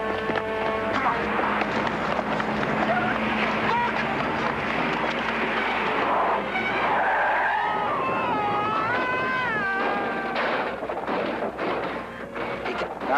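Film chase scene with cars racing and tyres skidding, a loud continuous rush of engines and squeals with sharp bangs mixed in and dense music or effects throughout.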